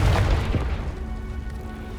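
A deep booming blast from the Confringo fire spell in the Hogwarts Legacy video game, hitting hard at the start and then rumbling away for about two seconds.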